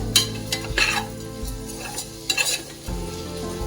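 Vegetables for vegetable biryani, with salt and chili powder, sizzle and hiss in a hot pan while a utensil stirs and scrapes in bursts, close and fairly loud, with no talking.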